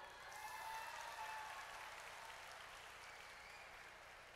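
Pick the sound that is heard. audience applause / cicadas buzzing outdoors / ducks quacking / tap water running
audience applause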